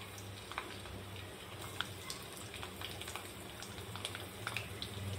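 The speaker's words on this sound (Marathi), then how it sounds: "हे बघा, जिरं मस्त गरम होत आहे. लसूण टाकून घेऊया." Garlic dropped into hot oil with cumin seeds, a quiet steady sizzle with scattered small pops and crackles over a low background hum, no talking.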